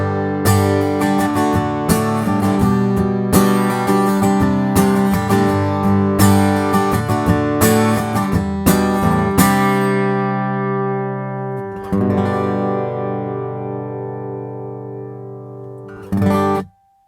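Rainsong V-WS1000N2X carbon fiber acoustic guitar played through its built-in Anthem pickup straight into a computer, loud strummed chords and picked notes ringing out, then a sustained ring fading before a final struck chord, with no voices.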